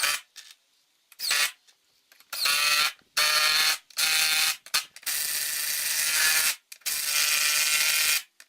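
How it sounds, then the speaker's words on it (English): Impact driver mounting hinges on a door, running in repeated bursts of rapid ratcheting hammering, each lasting under a second to about two seconds with brief pauses between, loud and close, no talking. "My impact driver to go ahead and mount the hinges on the door."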